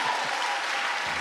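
Applause from a church congregation acclaiming Jesus, a dense, steady burst of clapping from many hands, heard briefly.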